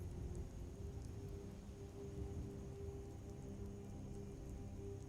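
Rain falls in a video game, a soft, steady wash of drops with faint low rumbling underneath, quiet and unbroken for the whole stretch.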